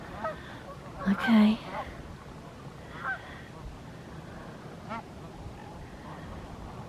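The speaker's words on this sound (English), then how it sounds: "Canadian geese, mallards, swans, and seagulls." Canada geese and other waterfowl honking at a lake in winter, where mallards and swans also gather; one loud honk near the start, then a few fainter calls spaced apart over steady background noise, with a brief spoken word.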